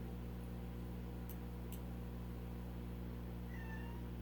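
A house cat that wants to go outside gives one short, fairly faint meow near the end, over a steady low indoor hum, with a couple of small clicks earlier.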